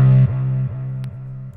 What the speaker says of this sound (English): I did like a little slide here for the grime, and I also put reverb on it and put some delay on it, so it sort of like fades out when it slides.